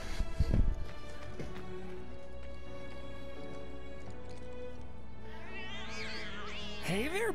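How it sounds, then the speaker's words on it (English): Cats meowing in the video game Final Fantasy VII Remake, with a few sharp, rising and falling meows near the end over steady game music and ambience, after an early thump. "look at all those cats in Final Fantasy VII"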